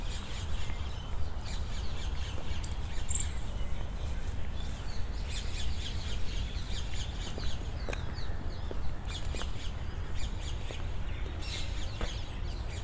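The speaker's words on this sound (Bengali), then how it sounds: "যে সব জায়গায় পাখির ডাক" Birds call repeatedly around the old fort ruins of Feroz Shah Kotla, with scattered chirps and clucking fowl-like cries over a steady low rumble of background ambience.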